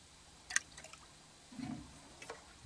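Plastic panels and knobs from a vintage JVC 9407LS radio cassette player drop into a tub of soaking water: a sharp splash early on, then a softer gurgling plunge and a faint drip near the end.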